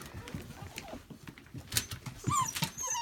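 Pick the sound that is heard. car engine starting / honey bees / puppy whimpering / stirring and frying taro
puppy whimpering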